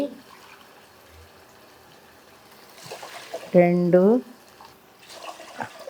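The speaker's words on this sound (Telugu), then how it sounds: "నేను నాలుగు కప్పులు నీళ్లు పోస్తా" Water poured from cups into a cooking pot for ragi sangati, arriving in short splashing bursts between spoken counting in a home kitchen.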